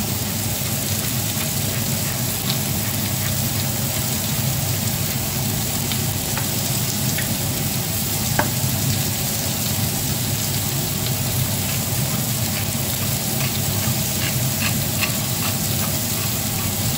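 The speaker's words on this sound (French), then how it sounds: "Je vais garder ma poêle bien bien chaude dans laquelle maintenant je vais pouvoir faire sauter mes morceaux" Meat pieces sautéing in a very hot frying pan, a steady loud sizzle that runs without a break, with occasional faint clicks of stirring.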